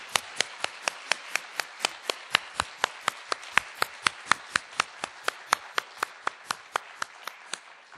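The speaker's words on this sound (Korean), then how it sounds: "함께 일어나 주시면 우리 박수로 환영하겠습니다" About two dozen sharp, evenly spaced claps ring out at a church service welcoming newcomers, crisp and fairly close, steady in rhythm with no talk over them.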